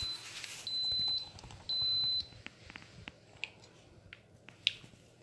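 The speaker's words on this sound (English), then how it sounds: "There's my timer right there." Two steady high electronic beeps from an Instant Pot pressure cooker timer, each lasting about half a second, sound one after the other in a quiet kitchen, followed by faint clicks and taps.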